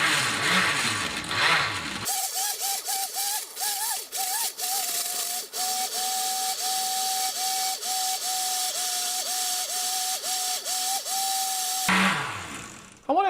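A blender pulses on its crushed-ice setting, grinding frozen bananas in a steady loud whir with repeated brief dips in pitch, starting and stopping abruptly, close up and with no talk.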